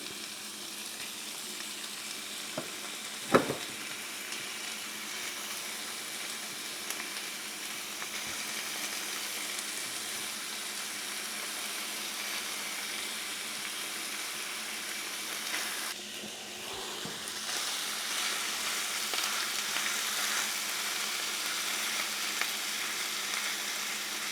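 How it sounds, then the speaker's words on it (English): Pork meat browning in a pan before pressure canning, a steady continuous sizzle with a brief sharp clatter early on and no talk. "all we're trying to do is brown this meat"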